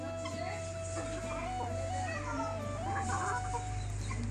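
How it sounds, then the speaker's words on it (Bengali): Roosters and young cockerels clucking on a farm in winter, a steady chorus of fowl calls close by with a constant low hum underneath, no talk heard. "এই যে এটা মোরগ আর ওই যে সাদাটাও মোরগ"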